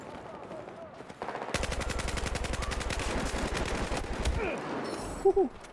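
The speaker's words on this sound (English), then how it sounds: "There's gunfire everywhere." Rapid automatic gunfire from a squad-based shooter video game rattles in sustained bursts for several seconds, loud and dense, with a few scattered single shots around it.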